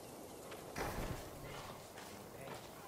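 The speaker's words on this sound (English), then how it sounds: "You're a good horse, Noble." Soft hoof clip-clops from a horse walking at a steady pace in the video game Ghost of Tsushima, faint and close, with a low ambient bed behind.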